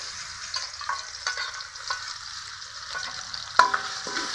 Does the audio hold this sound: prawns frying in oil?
yes